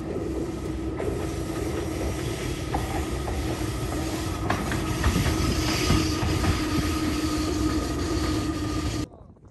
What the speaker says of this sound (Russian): вот поезд идет